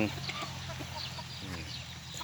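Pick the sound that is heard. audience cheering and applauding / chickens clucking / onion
chickens clucking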